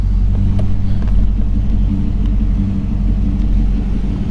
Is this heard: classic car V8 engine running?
yes